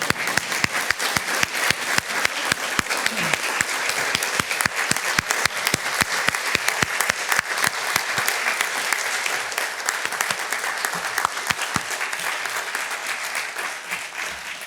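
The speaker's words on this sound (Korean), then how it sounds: "그 어느 때보다 뜨거웠던 박수 같습니다." Sustained, loud applause from an audience at the 17th Ilsong Award ceremony, dense steady clapping filling the hall throughout with no talk over it.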